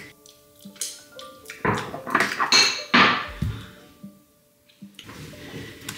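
Small whisk stirring icing sugar with a sprinkle of cinnamon and nutmeg, clinking against a bowl in a run of quick, bright metallic taps and scrapes that swell midway, then fade, close and fairly loud, with no talk.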